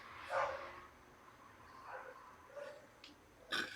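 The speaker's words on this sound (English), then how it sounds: "You hear a dog running around." A dog moves about in a room, giving a few faint scattered yips and short barks at a distance, with quiet gaps between them.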